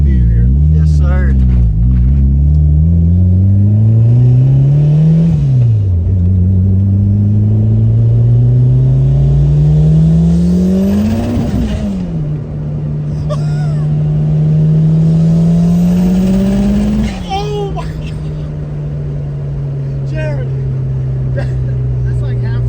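A turbocharged DSM car with a 650 hp big turbo accelerates hard from inside the cabin, its engine revving up through several gears with loud rising sweeps and shift drops, while people talk over it.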